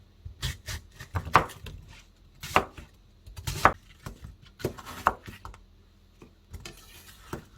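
A knife chops through pear on a cutting board for kimchi, crisp close thuds arriving in short irregular pairs and bursts.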